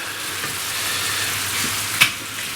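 A steak sears in a hot pan for pizzaiola, a steady close sizzle with one sharp crackling burst near the end, and no voices.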